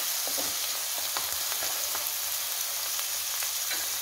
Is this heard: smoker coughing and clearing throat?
no